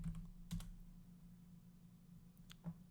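A computer keyboard typed on while entering a browser address in Firefox on Windows: a few sharp, quiet key clicks in two short bursts, over a steady low electrical hum with no talking.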